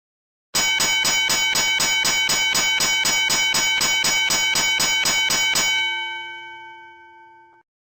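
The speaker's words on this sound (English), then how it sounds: "A vessel at anchor must ring the bell rapidly for 5 seconds every 1 minute." A ship's bell on a vessel at anchor is struck rapidly in an even, ringing clatter for about five seconds, then stops and its metallic tone fades out clearly and alone.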